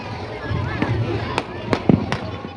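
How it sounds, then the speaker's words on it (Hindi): Firecrackers burst during Chhath Puja celebrations, several sharp cracks popping at irregular intervals over a dense crowd murmur and background voices. "लोग बहुत सारे पटाखे फोड़ रहे थे"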